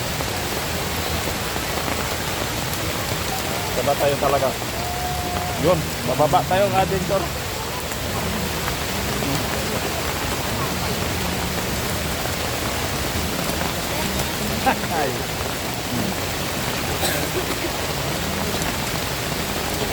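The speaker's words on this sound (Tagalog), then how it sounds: "Malakas talaga yung ulan mga ka-adventure." Heavy rain pours steadily near Estrella Falls in Narra, Palawan, a loud constant hiss of drops on surfaces that runs throughout while people talk briefly over it.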